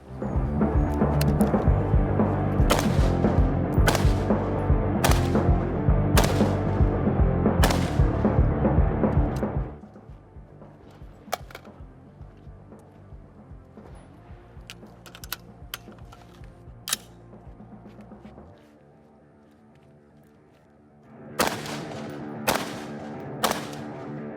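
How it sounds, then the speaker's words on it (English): A rifle fires quickly at a target during training. Sharp, loud, evenly spaced reports crack over heavy background noise, then come scattered lighter clicks and a quiet gap, and a final fast string of shots closes it. "Now shoot this as fast as you can."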